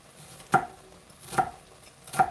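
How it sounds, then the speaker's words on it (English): A knife dices onion and fennel on a cutting board, three distinct chopping knocks spaced under a second apart, close and moderately loud over a faint background hum. "I'm just cutting up, dicing some onion and some fennel."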